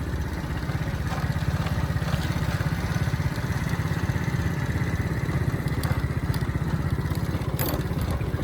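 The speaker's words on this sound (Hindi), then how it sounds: "मोटरसाइकिल अगे तक तो आई गया है" A motorcycle engine runs steadily at a low, throbbing idle, loud and close, with a constant pulsing rumble and no voices.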